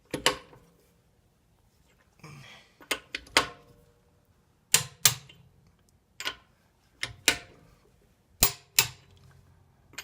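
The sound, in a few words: torque wrench clicking while tightening wheel lug nuts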